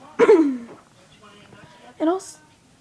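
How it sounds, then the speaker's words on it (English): Two short, raspy throat clearings, one near the start and another about two seconds later, close and fairly loud with a quiet pause between. "sorry guys, I have to clear my throat"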